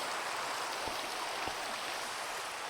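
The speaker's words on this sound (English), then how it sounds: "Uh-oh, it's raining." Rain pouring in the Minecraft video game, a steady, even hiss of heavy downpour filling the whole clip at moderate volume, with no voices.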